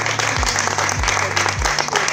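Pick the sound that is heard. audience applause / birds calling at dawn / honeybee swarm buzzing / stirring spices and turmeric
audience applause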